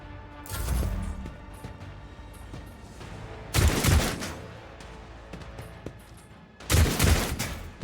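Bursts of gunfire in Warhammer 40K Rogue Trader, three loud volleys of rapid shots spaced a few seconds apart, with quieter game sounds in between.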